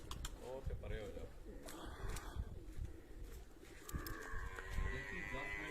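Pigeon cooing at a pigeon-flying setting, soft low coos mixed with background noise and people's voices.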